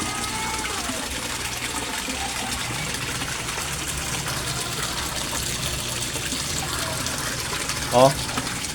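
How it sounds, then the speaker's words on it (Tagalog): Aerator pump bubbling steadily in a 3-foot-deep outdoor koi pond, a continuous gushing, watery wash running throughout with a brief louder splash near the end. "Ito ang aerator pump natin guys, 3 feet deep ang lalim ng pond natin."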